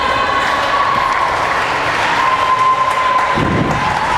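A crowd applauds and cheers steadily at a swim meet as a Bridgewater-Raynham boy finishes in lane 2, a dense, loud wash of clapping and shouts echoing through an indoor pool hall.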